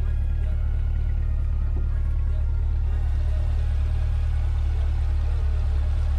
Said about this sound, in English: V8 engine, naturally aspirated engine here, right at 495 horsepower